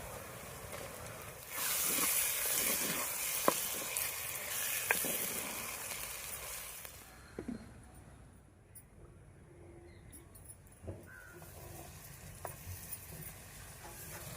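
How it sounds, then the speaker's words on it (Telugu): Lengthwise-sliced green chilies fry in a pan for a salted fish and egg curry, a loud, close hissing sizzle with occasional utensil clicks that settles into a softer crackle halfway through. "నిలువుగా తరిగిన పచ్చిమిరకాయ ముక్కలు వేసుకుందాం"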